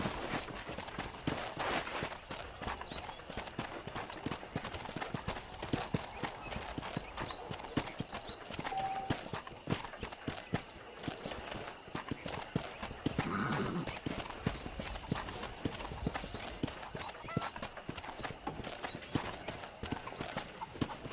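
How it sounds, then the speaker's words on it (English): Continuous rhythmic hoofbeats of a horse galloping in a video game, steady clip-clop pattern throughout with an occasional whinny. "let's see if you can still ride a horse."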